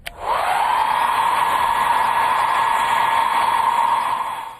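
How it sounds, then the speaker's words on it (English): A hair dryer switches on and blows with a steady whooshing roar and a faint motor hum, close and constant, then fades out. "Blow dryer."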